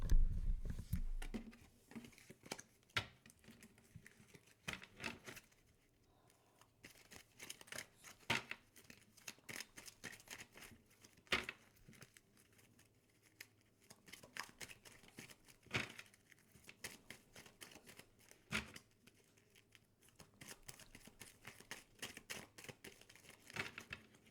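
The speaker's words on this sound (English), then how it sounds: "Now I'm going to reshuffle and let the cards fall out." Tarot cards being reshuffled by hand, with a rapid series of crisp riffling flicks and soft card slaps in uneven bursts, quiet and close, no voices.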